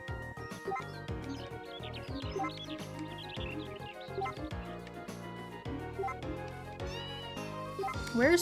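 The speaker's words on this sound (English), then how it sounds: "I hear Poulter meowing" Repeated cat meows in the video game Story of Seasons: A Wonderful Life, some drawn out and rising, over a busy musical game soundtrack with chirpy effects.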